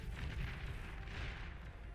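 Explosion in Beyond All Reason wiping out a group of Marauder units, a dense continuous low rumble with blasts overlapping across the whole stretch, loud and sustained without a clear single peak.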